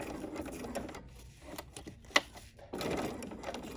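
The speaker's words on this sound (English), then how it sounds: "So now we're gonna stitch a few stitches forwards, go backwards a few stitches," A sewing machine runs a few stitches forwards and then backwards in short bursts of fast mechanical whirring, close by, with quieter clicks and a sharp tap between runs before the motor picks up again.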